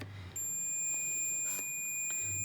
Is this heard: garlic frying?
no